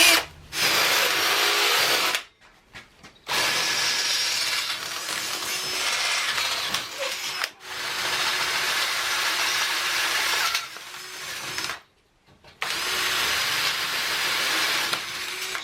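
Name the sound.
power drill drilling holes for casters in saw pedestal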